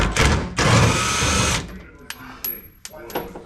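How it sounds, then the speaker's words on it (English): A power tool spins bolts out of the trunk area of a Mazda RX7 FC drift car, a loud buzzing burst followed by shorter intermittent whirs and clicks as fasteners loosen. "put a wrench on it, and hope it works"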